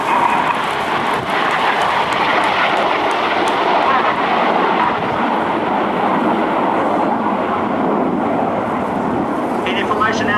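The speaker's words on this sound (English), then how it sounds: "Idiot formation now pulling up into the steep climb." RAF Red Arrows jet aircraft flying in formation at an air show produce a continuous, loud, broad roar that holds steady throughout, with no pauses or breaks.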